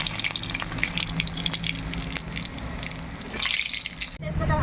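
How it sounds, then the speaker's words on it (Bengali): Bay leaves and two dried red chillies dropped into hot oil give a continuous crackling sizzle, rising briefly toward the end, with faint background sounds. "এখন তেজপাতা আর দুটো শুকনো লঙ্কা আমি তেলে ছেড়ে দেবো।"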